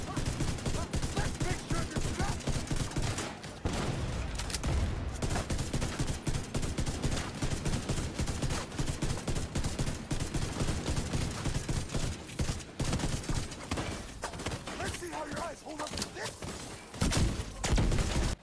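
Dense, continuous gunfire from a legendary boss fight in The Division 2, rapid overlapping shots and bursts filling the whole stretch at high intensity with no pauses.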